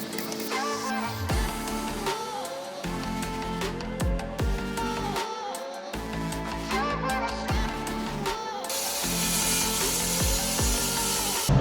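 A track saw cutting a van wall panel, rhythmic buzzing and grinding strokes repeating across the clip with a rising whine toward the end, loud and close.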